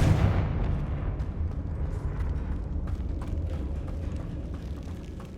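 Confringo fire spell blast in the Hogwarts Legacy video game: a loud, rumbling explosive burst right at the start, with crackling debris and a sustained low roar fading over several seconds.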